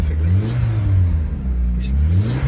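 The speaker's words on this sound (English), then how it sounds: "That engine just free revs perfectly." A 1988 VW Golf GTI engine revs freely while stationary, a deep throaty rumble rising and falling in pitch, loud and close.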